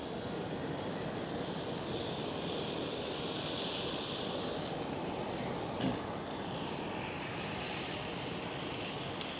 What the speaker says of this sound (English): it looks like a big one on final. Yes it is, KLM 777.